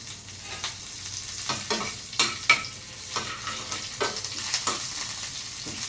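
Curry leaves frying in oil, an even hissing sizzle broken by regular stirring scrapes and crackles, close and moderately loud, no talk.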